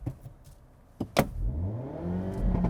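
A 2024 Hyundai Elantra N's engine revs for launch control, climbing after a couple of sharp clicks into a rising, sustained mid-pitched drone held close by.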